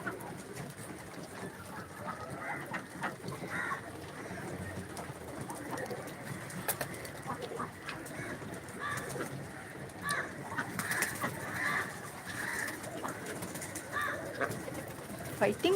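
Pigeons coo repeatedly at close range while drinking water, soft throaty calls over a steady background murmur.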